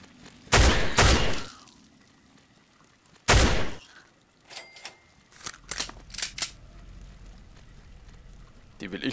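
Gunfire in Fallout 3 comes as two sharp, loud bursts of rapid shots early on, then scattered lighter clicks and shots. Someone talks in the background.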